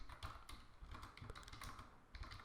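Typing on a computer keyboard while writing HTML code, a brisk uneven patter of close, soft key clicks with small bursts and brief gaps, and no speech.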